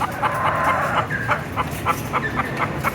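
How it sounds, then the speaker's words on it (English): Caged hens clucking in a barn at the Indiana State Fair poultry exhibit, several short repeated clucks over a constant background hum of machinery. "in the foreground is our conventional caged birds"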